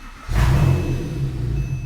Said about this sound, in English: now we are going to start it up